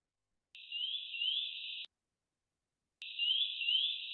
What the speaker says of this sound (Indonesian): Ini adalah suara burung ya.